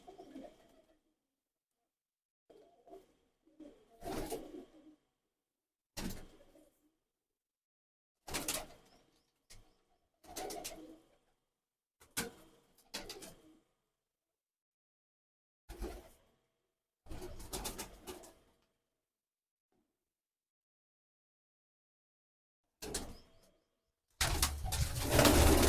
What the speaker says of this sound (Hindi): ये जी वो कबूतर